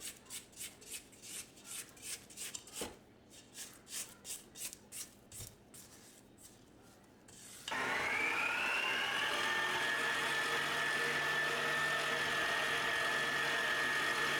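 A stand mixer creams chocolate chip cookie dough in a bowl. Rhythmic scraping sounds are followed by the motor starting up into a steady, fairly loud whirring hum with a rising whine.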